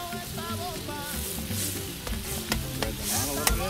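Shrimp hit a hot paella pan and sizzle steadily, with occasional stirring clinks and scrapes beneath background music.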